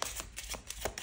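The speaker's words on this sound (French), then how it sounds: "on va aller voir avec le jeu de 32, on va faire un petit tirage pour vous les béliers" Cards of a 32-card deck being shuffled for a tarot-style reading, giving a soft rustle with a few sharper riffling bursts over about a second, close and fairly quiet.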